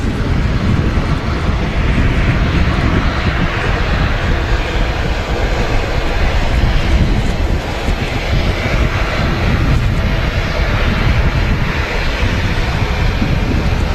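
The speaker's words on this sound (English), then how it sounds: "the aircraft that just left us was a KLM service to Amsterdam" A KLM passenger jet departs Manchester Airport on a windy day, its engines producing a loud, continuous broadband roar that holds steady for the whole stretch, with no voices.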